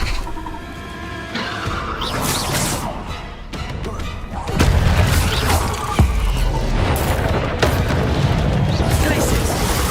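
The Incendio fire spell in Hogwarts Legacy bursts out as booming, whooshing blasts among other spell effects and combat noise, loud and continuous, with talk over it.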